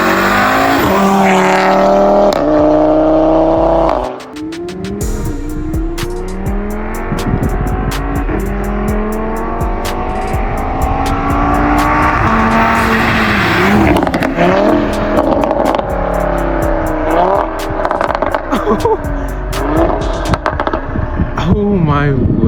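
Audi RS3 five-cylinder with an aftermarket exhaust, revved loudly and close, with rising and falling engine howls, sharp pops and crackles, and people talking excitedly over it.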